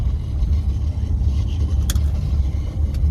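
A car rolls down into an underground parking area, its engine giving a steady low rumble close by with a faint click or two, and no talking.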